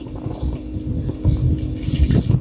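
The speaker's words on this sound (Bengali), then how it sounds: "1 কাপের মতো পানি দিয়ে দিচ্ছি।" Water is poured into a cooking pot while a pumpkin dish simmers, a short burbling splash and gurgle close by, rising in bursts over about two seconds.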